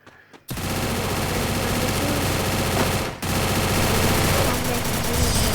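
Rapid automatic gunfire in a shooter video game fills the clip with loud, dense bursts that run almost continuously, broken by one brief pause midway.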